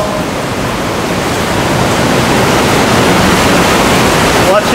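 A river rushing through a cave, a loud, steady broadband roar of water that swells slightly and holds without pause.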